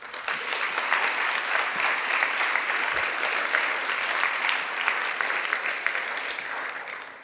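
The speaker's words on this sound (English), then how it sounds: "So if we could give them a round of applause." An education leaders' luncheon crowd gives a sustained round of applause, a dense, even wash of many hands clapping that holds steady for about seven seconds and tapers slightly at the end.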